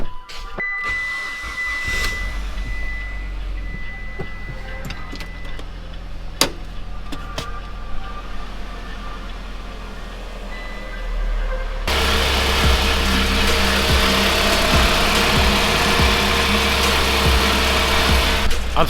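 A Mitsubishi Evo engine drones steadily at idle, then grows noticeably louder and fuller near the end as the car is put in gear and rolls, with the hum continuous throughout and no talk.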